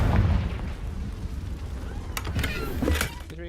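A Confringo fire-blast spell explodes in Hogwarts Legacy, a loud low boom with a rumbling decay, followed by sharper crackling impacts near the end and no talk.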